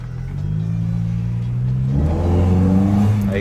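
A Ford Mustang 5.0 V8 revs up, its low intake rumble and whir rising in pitch and loudness, then settling into a deeper, steady drone close by.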